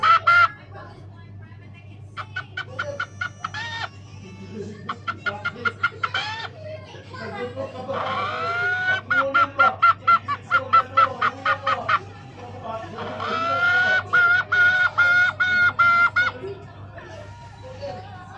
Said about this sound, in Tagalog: Nagtilaok agad yung banda.